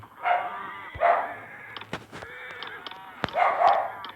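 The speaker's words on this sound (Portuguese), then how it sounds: "Meus cachorros latindo, galera, não liga não" Dogs bark a few times, close by, in short spaced bursts with quiet gaps between.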